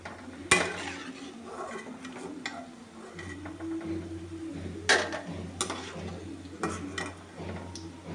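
Fried dried okra (ladies finger vathal) being lifted from a pan onto a plate, with scattered metallic clinks and scrapes of utensils against the cookware over a low background hum.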